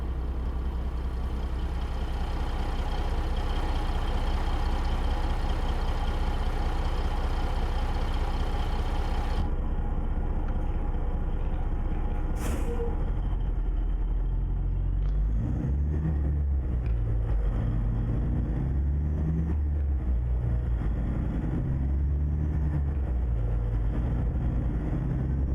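A truck engine in American Truck Simulator, driving through snow, holds a steady low rumbling drone throughout, loud and close, with a brief higher whine partway through and no talking.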